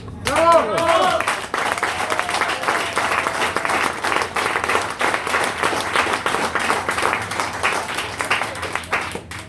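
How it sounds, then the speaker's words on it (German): Audience breaks into big applause for a team at an emotional farewell, dense continuous clapping with a few whistles or cheers at the start, loud and close for the whole stretch. "ein riesen Applaus für mein Team"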